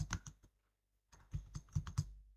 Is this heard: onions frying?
no